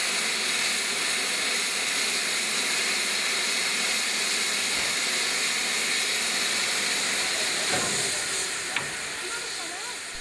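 A GWR 5542 class steam locomotive, built at Swindon Works between 1927 and 1929 and coupled to British Railways Mark I coaches, gives off a loud, steady hiss of steam that runs through the whole clip with little change.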